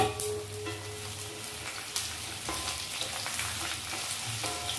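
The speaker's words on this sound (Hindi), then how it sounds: "इसी तेल में भिंडी को भी फ्राई कर लेते हैं" Okra (bhindi) frying in oil in a pan at moderate volume, with a steady crackling sizzle broken by scraping stirs and small clatters, and no voices.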